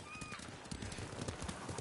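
A horse in Ghost of Tsushima clops along with steady hoofbeats and lets out a brief whinny near the start, faint and close under low ambient sound.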